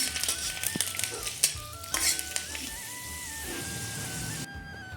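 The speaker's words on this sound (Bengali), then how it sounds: "এরপরে কটা রসুনের কোয়া ভেজে নেব আমি" Garlic cloves frying in a pan for tomato bharta: a steady sizzle with scattered pops and stirring scrapes throughout, cutting off abruptly near the end.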